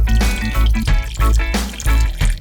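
Water and vinegar splash into a pan for pickling brine in a home kitchen, a loud, close stream that pours in several bursts with short pauses between them.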